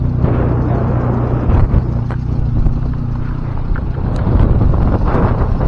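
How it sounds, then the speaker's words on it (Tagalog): Strong wind roaring and buffeting loudly and continuously on Panguil Bay Bridge, with a low rumble underneath and no voices. "lakas ng hangin"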